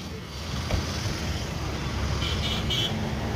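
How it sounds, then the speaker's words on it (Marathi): A truck passes on a road, heard as a steady, fairly loud broadband rumble of engine and tyre noise with general traffic, without a clear rise or fall. "मी ट्रकचा आवाज ऐकला"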